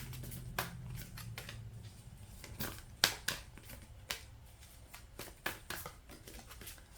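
Tarot cards being shuffled by hand for a Sagittarius reading, a run of soft riffling and sharp snapping clicks at close range, with quiet rustling between the louder bursts.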